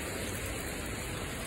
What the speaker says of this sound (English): Rain's just coming in a little heavy right now.